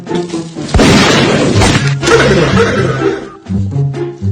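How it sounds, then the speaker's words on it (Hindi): Gunshots go off in a Hindi comedy skit: a few sharp, loud bangs close together, followed by a dense, rumbling crash-like wash that fades near the end. "चाचा यार गोलियां चल रही हैं यार।"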